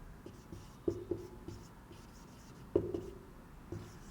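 Pen or pencil strokes scratch lightly on paper while handwriting a date, quiet and close, in a few short bursts with small taps.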